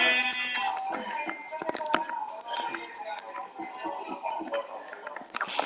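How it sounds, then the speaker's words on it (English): Sheep bleating in Minecraft, a few blocky in-game bleats mixed with other game sounds while people talk over them. "Brown sheep."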